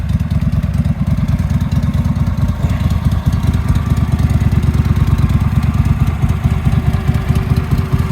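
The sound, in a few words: Case Ingersoll 7020 garden tractor engine running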